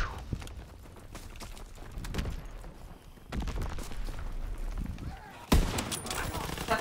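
Gunfire in a World War 2 video game, rapid bursts of shots crackling close by with a sharp loud report near the end, while people talk over the action.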